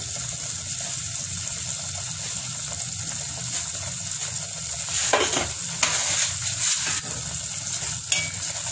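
Semolina roasts in ghee for sweet halwa, a steady soft sizzle and scrape of stirring under a continuous kitchen hiss, with a few louder scraping strokes near the middle and no speech.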